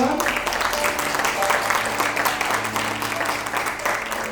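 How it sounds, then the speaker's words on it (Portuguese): A church congregation gives a strong round of applause during a worship service, dense sustained clapping from many hands with some voices mixed in throughout. "Uma forte salva de palmas ao Senhor."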